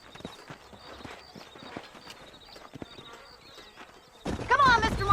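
Horse hooves clop quietly in the open country of the video game Red Dead Redemption, soft irregular steps with faint ambient insects, then a louder burst near the end with a brief whinny-like cry.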